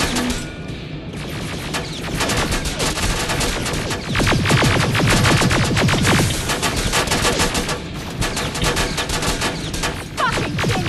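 An automated turret in Terminator: Resistance rattles off sustained rapid gunfire. The loud staccato bursts run almost nonstop, peak in the middle and continue to the end.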